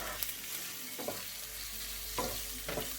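Garlic frying in a pan for pasta carbonara, a steady close sizzle and crackle with a few soft stirring scrapes, no talking.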